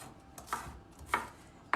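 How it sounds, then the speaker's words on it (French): A kitchen knife slices white asparagus into bite-size pieces for a salad, giving three separate crisp cuts, fairly close and quiet, with no talking. "Donc là je vais les couper. L'idée c'est juste la taille d'une bouchée."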